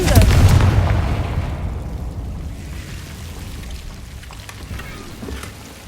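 A Confringo blasting spell bursts in Hogwarts Legacy, a loud booming explosion up front that rumbles and slowly fades into a lingering crackling tail.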